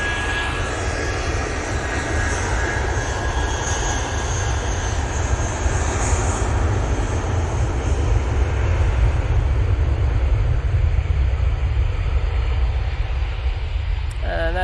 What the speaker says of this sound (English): there goes Nigel, the A320 CEO, going off to London